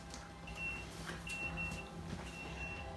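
A kitchen oven timer beeps in short, faint, evenly repeated tones over a low background hum during a flapjack-baking lesson.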